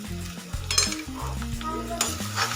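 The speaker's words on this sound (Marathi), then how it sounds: "आपण बटाटे मॅश करून घेतले होते हे याच्यामध्ये घालून घ्यायचे आणि व्यवस्थित त्याच्यामध्ये मिक्स करून घ्यायचं" Mashed potatoes are stirred into a sizzling sautéed mixture in a pan for crispy potato pattis. The spoon scrapes continuously over a steady frying hiss, with melodic background music throughout.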